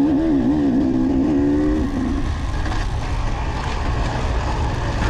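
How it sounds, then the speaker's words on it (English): A dirt bike's engine screams at high revs climbing a steep wooded hill during a race, loud and close, with the pitch wavering before settling into a rough, steady roar. "I just got to scream my bike because I'm trying to make it up this hill"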